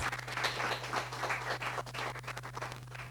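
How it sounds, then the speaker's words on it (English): Applause from a seated audience at a business talk, a dense steady patter of many hands clapping at moderate distance, with a low steady hum underneath. "I think that deserves a round of applause"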